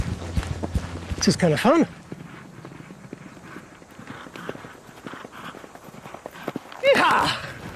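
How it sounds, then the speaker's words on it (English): Camel footsteps in a pacing gait, a steady run of soft hoof thuds as the animal covers ground, with someone talking over them and brief excited vocal bursts. "It's this pacing gait that allows camels to stretch their legs far with each stride"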